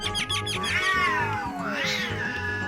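A cat gives a drawn-out, wavering meow that swells and slides downward, followed by a second rising call, loud and near with no speech.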